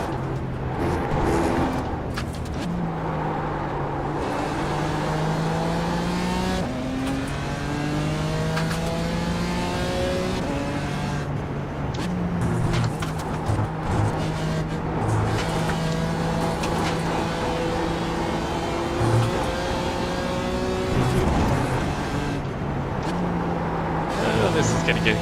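Mazda Miata race car engines in the iRacing sim at VIR during a production car endurance event, revving and shifting through gears with rising and falling engine tones, loud and continuous while people talk throughout.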